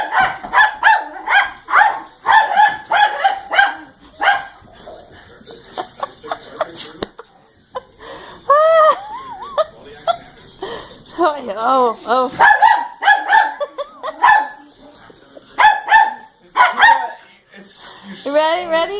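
Cattle dogs bark in scattered bursts while herding a poodle, mixed with excited people talking and calling out over the barking throughout.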